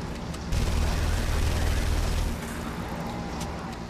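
Rapid enemy gunfire from a terror squad in The Saboteur, a dense loud burst of shots and booms for about two seconds, then continuing gun noise at a lower level.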